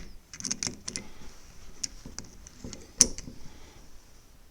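Car brake caliper piston being screwed back in: quiet, irregular metallic ticks and scraping clicks close by, with one sharper click near the end and no talking.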